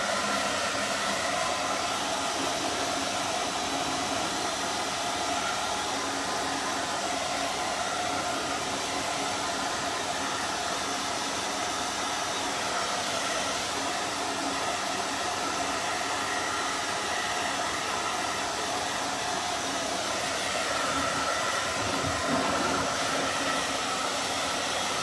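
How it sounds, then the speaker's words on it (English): A blow dryer runs continuously to dry wet paint on gnome yard art, a loud, steady airy whoosh that holds for the full length with only slight shifts in tone and no speech. "it's really wet and my blow dryer is pushing"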